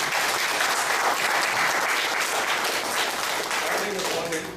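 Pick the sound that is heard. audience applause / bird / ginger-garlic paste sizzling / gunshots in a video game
audience applause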